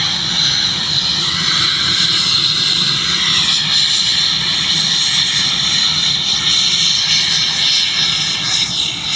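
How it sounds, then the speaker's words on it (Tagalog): An airplane taking off close by, its engine roar loud and steady throughout with no break, and no talk over it. "Malapitan natin mapapanood yung paglipad ng eroplano."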